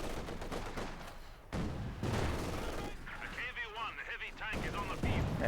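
Tank and gun fire in the Company of Heroes 2 strategy game, with repeated bursts of shots and booming blasts under near-continuous commentary.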